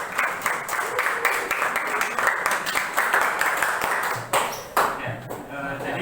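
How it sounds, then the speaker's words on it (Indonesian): Audience applause at an Indonesian teacher academic-supervision coaching session, a steady spread of clapping lasting several seconds before tapering off, with some background voices mixed in. "kasih tepuk tangan untuk Ina"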